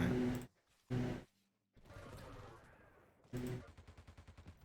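Rapid machine gun fire in a competitive arena shooter match, a steady string of close, evenly spaced shots near the end after scattered loud bursts, pauses and a stretch of softer game noise.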